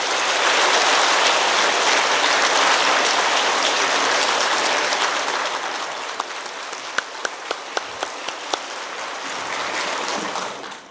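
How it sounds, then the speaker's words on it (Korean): A church congregation during a Sunday service bursts into loud, sustained applause that gradually thins, leaving a few isolated claps before the clapping swells again. "우리 축하한 뜻을 뜨거운 박수로 격려해 주시면 감사합니다"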